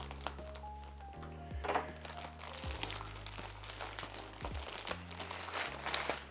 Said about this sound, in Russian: Давайте же вскроем данную посылку и посмотрим, что нас ждет внутри